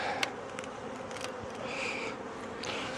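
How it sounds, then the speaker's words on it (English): Honeybees in a hive one week after a split drone in a soft, continuous buzz close by, a faint steady hum with occasional individual bees passing nearer. "Normally I would bang this, but this inner cover is full of bees"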